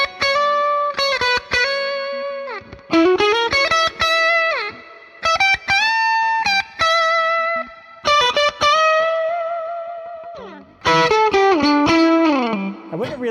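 Distorted electric guitar from a budget Loog Les Paul-style guitar, played in loud sustained chords and bent notes with short pauses between phrases, heavily overdriven with a bright, buzzy edge throughout.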